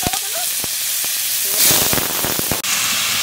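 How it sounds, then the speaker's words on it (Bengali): Potatoes fry in hot oil in a wok, giving a loud, continuous sizzle with sharp crackles and pops, close up, while a voice talks briefly over it. "তেল গরম হয়ে গেছে এবার আলুটা ভেজে নেবো"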